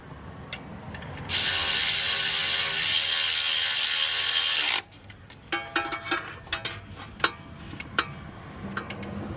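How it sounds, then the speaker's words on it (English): A small hand ratchet tightens a bolt on a 2007–2010 Hyundai Elantra alternator, a run of quick close clicks after a few seconds of steady hiss. "now I'm gonna tighten the top bolt."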